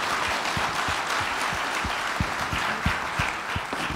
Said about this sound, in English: please say the big applause for the distinguished speakers